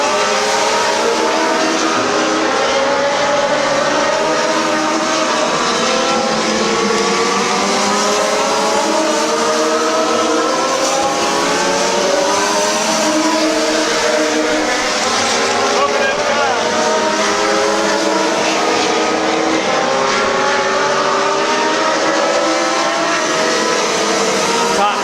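Race cars circle Midvale Speedway, engines droning and rising and falling in pitch as they pass, a continuous loud roar heard under a commentator's voice.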